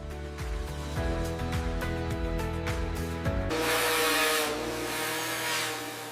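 A machine cuts a wood sheet for an arcade cabinet in a factory, with a rising and falling whine under repeated cutting passes, then a steady, loud, broadband grinding roar.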